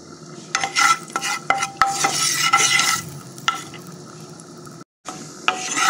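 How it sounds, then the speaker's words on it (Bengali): Black cumin seeds sizzle in oil in a frying pan under repeated scraping and rubbing strokes of a spatula on the metal, with a brief silent gap near the end. "একটু কালো জিরা ফোড়ন দিয়ে দেবো"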